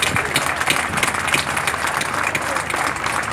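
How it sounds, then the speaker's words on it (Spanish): Applause for Marcelo, Isabel and Fito at a public event, dense steady clapping from a crowd that stays loud and even throughout with no voices over it. "quisiéramos pedirles un aplauso muy grande para Marcelo"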